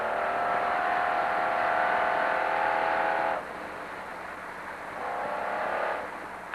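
A loud, steady off-road race truck engine roars continuously, dips briefly in level, then rises again as the truck keeps driving at speed in a desert race.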